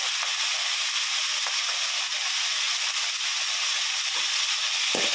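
Shallots, ginger and garlic sautéing in a pan give a steady, close hiss of sizzling oil that runs unbroken throughout, with a few faint clicks near the end and no talking.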